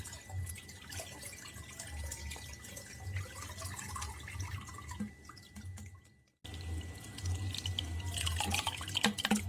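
Liquid from a rice-based local microorganism mixture is strained and poured into water. A steady close trickle and splashing runs throughout, with a brief silent gap.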